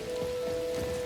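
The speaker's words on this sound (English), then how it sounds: "now it's raining." Rain summoned by a ringing bell spell in the video game Neverness to Everness, falling as a steady, close, dense patter across the whole short moment, with no voices.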